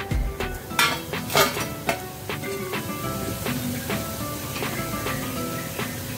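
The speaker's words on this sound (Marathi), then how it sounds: "मी आता सर्विंग प्लेट मध्ये काढून घेते" Crisp fried urad dal bhaji being moved onto a serving plate, with several sharp clinks of a utensil against the dish, scraping, and a steady background sizzle from the frying pan; no talking.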